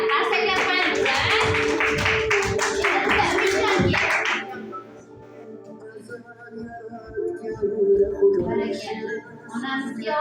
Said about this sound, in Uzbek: Qarsaklab qo'yamiz